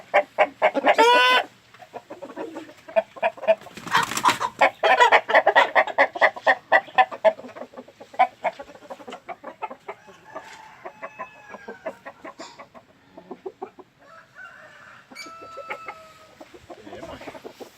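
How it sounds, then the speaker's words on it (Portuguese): Chickens from a backyard flock, including a purple-feathered bird, cluck repeatedly and loudly in dense overlapping calls, with a sharp squawking burst near the start and softer scattered clucks toward the end. "Que é bonito esse frango roxo"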